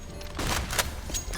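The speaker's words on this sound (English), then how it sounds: "I throw in a flashbang." A flashbang grenade goes off in the video game CS:GO, a loud broadband burst with a sharp crack near the middle, set against continuous game noise with no talking.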